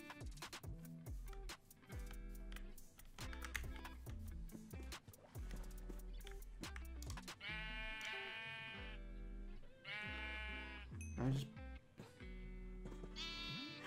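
A baby sheep bleats in Minecraft, a few short wavering bleats in the second half over a bouncy looping music track that runs throughout.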